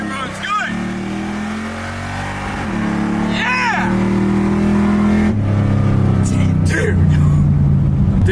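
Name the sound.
supercharged Jaguar XJ 383 stroker doing an acceleration pull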